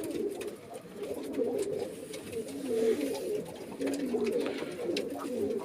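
Male pigeons cooing continuously nearby, overlapping low throaty coos from several birds with faint rustling in the background.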